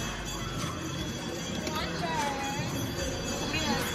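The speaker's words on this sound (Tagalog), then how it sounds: "the train is coming." A train pulling into a station, its broad rumbling and faint wheel squeal spread steadily across the whole stretch, with crowd murmur and voices talking over it.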